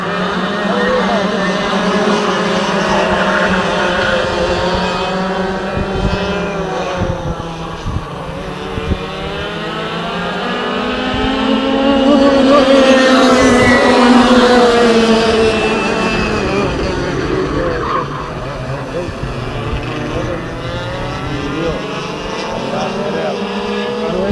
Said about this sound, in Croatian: To je KF motor, drugi motor.